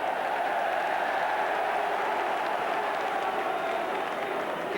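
A steady, dense roar from the stadium crowd at an FA Cup third-round match between Leeds and Manchester United in 1992, broad and continuous with no lulls, heard from a distance as a wash of massed voices.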